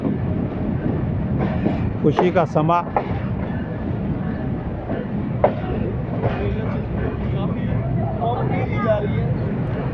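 A passenger train runs through Attock City junction on the restored ML2 line, the Khushhal Khan Khattak Express, a low rolling rumble beneath lively crowd chatter and a narrating voice throughout.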